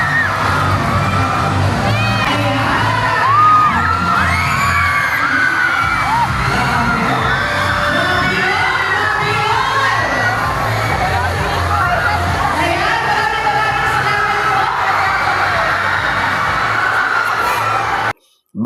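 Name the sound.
spectators cheering as the Timistan players enter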